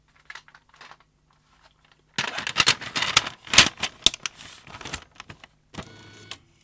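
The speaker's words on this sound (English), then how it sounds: "Is the loading motor spinning when I put a tape in?" A Grundig 2x4 Super V2000 video recorder whirs and clicks as its tape loading motor runs with a tape inserted, a close buzzing mechanical burst of a few seconds after faint clicks, ending in a short whine.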